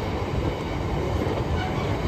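A passenger train runs at speed on the Shahganj Junction to Akbarpur Junction line, making a dense, steady rumble and roar of wheels on rail close by, with no voices heard.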